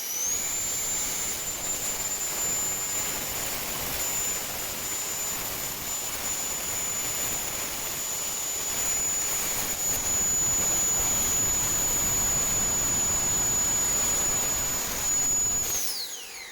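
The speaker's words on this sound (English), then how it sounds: "For the next test I will swivel the nozzles under full throttle." A 3D-printed Harrier STOL model jet runs at full throttle while its nozzles swivel, a loud, steady high-pitched electric ducted-fan whine with roaring airflow, held constant for about sixteen seconds before it abruptly cuts off.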